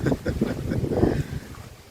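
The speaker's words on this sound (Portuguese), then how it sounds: "Tá tendo uma ventania aqui." Strong, gusty wind blows outdoors, roaring steadily into a nearby microphone with rough, buffeting surges throughout.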